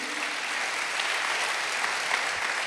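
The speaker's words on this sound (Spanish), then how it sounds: "Démosle un aplauso al Señor" Steady applause from a church congregation, dense clapping that holds at an even level throughout.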